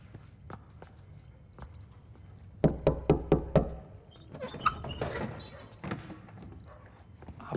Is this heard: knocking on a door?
yes